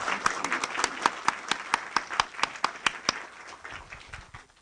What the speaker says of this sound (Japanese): 最後に皆さん彼らにちょっと拍手をしていただけますでしょうか